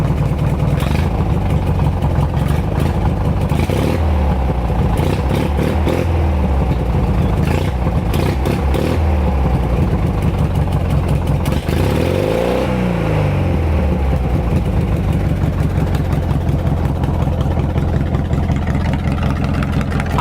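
Engine idling loudly through a new exhaust, its lumpy, uneven firing from a leaky head gasket giving a shaking, pulsing rumble, with a couple of brief revs rising and falling midway.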